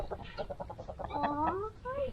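Hens cluck in a quick series, then break into higher, agitated squawks, close by and moderately loud.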